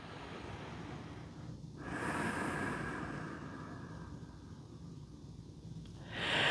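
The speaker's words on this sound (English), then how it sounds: "Nice full inhales and exhales through the nose." Slow, full breaths in and out through the nose during a relaxed stretching exercise for older adults, faint and airy with gentle swells, no talking.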